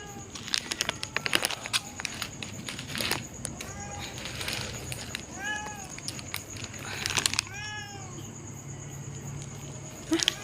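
A stray bobtailed cat meows repeatedly in short rising calls at close range, with a person speaking softly at times and a steady insect or cricket drone in the background.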